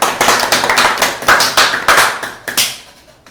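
A small online class claps hands, a few close, uneven pairs of claps that keep pulsing, each with a sharp attack and short decay, and then thin out toward the end with no talking.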